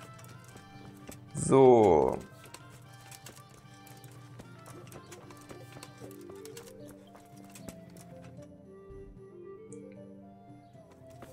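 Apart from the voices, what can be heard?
horse hoofbeats following the player in video game Kingdom Come Deliverance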